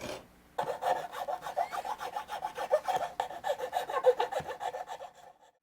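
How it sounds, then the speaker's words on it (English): A fine-cut file or rasp works a carved wooden guitar body and heel, giving close, rhythmic back-and-forth rasping strokes that speed up into quick repeated passes, with no voices. "Let's take a finer cut tool and clean that up."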